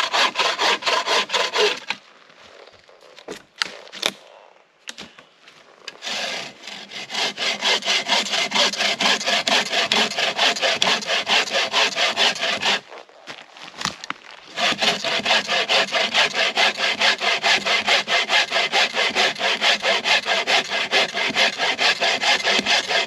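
Wood being hand-sawn for a bow drill fireboard: steady, close back-and-forth rasping strokes that stop briefly twice, then resume in a long, even rhythm with no talk.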